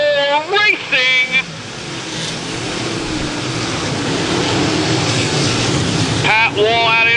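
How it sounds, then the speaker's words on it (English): Modified race cars racing at New Egypt Speedway, a loud, sustained roar of engines swelling as the pack sweeps past, with an announcer talking over the noise at the start and end. "All right, modifieds coming at you up at turn number four, racing."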